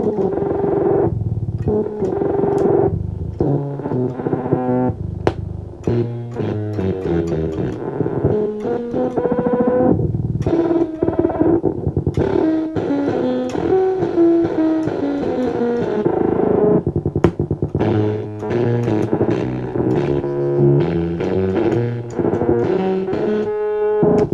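Harsh, glitchy tones from a circuit-bent Casio Casiotone CT-360 keyboard warble and jump in pitch continuously, buzzy and distorted, playing alone without any talking.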